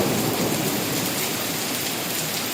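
Hail and heavy rain pound down steadily during a thunderstorm near Bankya, with a low rumble of thunder beneath the dense, hissing downpour at close range.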